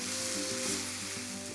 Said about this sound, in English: Now you can add 1 small tomato to this and cook until it becomes mushy